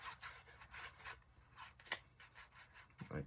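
Scissors snip and rub through paper for a hidden spine journal, with a series of soft, close cutting and scraping strokes in an uneven rhythm and a sharper click near the end.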